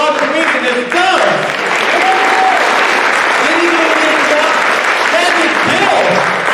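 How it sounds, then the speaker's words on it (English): An audience applauding a comedian at a live show, sustained loud clapping from a crowd with a speaking voice over it throughout. "give another big round of applause for the rock comedian as he comes."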